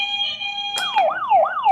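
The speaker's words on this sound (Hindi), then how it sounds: "उनको आवाज सुना रहा हूँ बजर की कैसी होती है।" Electronic quiz-game buzzer tones for a family question round: a steady high beeping tone, then a loud burst followed by repeated rising-and-falling warbling sweeps like a siren, playing alone with no talk.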